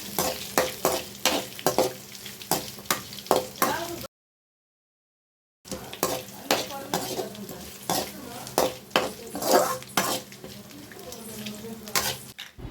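Onion, medium green chillies and ginger frying in a pan for coconut milk pulao: loud sizzling with rhythmic scraping and stirring strokes, cut by a short silent gap.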